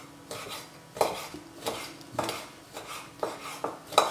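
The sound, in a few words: knife cutting dried chili pepper into thin strips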